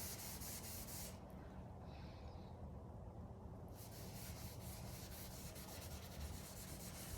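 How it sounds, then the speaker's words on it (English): Finish is rubbed into a wood propane fire table along the grain, making a steady, close scratchy rubbing with a faint hiss. A softer stretch in the middle drops some brightness before the strokes return with quick repeated texture. "Rub it in real good."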